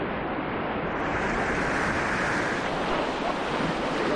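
Ocean waves and surf roar steadily and loudly at a surfing dog competition on the Pacific shore, with wind buffeting the microphone and no voices.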